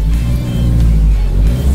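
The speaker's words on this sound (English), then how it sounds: "he's just revving it in park as if that's going to help us here" A new Isuzu XTR engine, revving in park, rumbles and revs steadily at close range, a low continuous roar with no voices.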